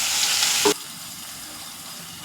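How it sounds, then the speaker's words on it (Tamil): Carrot and potato sauté in a pan for idli sambar, with a loud, close sizzle and stirring for under a second that then drops to a faint hiss. "இந்த கேரட்டு உருளைக்கிழங்கு போட்டு வதக்கிக்கிடுவோம்"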